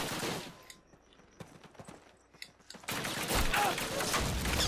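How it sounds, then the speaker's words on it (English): Automatic rifle gunfire in a Call of Duty game, a few scattered shots and short bursts at moderate distance, then a loud sustained roar of mixed gunfire and action noise building toward the end. "I need an automatic rifle."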